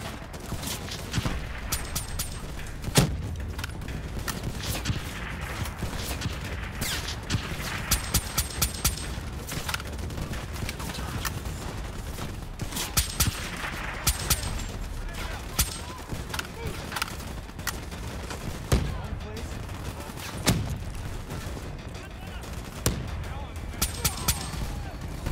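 Battlefield gunfire in the PS4 shooter Black Ops 3, dense bursts of rifle and machine-gun shots with heavier booming blasts crackling steadily throughout, loud and close, with snatches of talk underneath.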